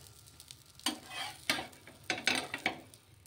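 A dosa cooks on a hot pan with a soft, steady sizzle, broken by a few louder scraping and spatula-like bursts close by, with no talking.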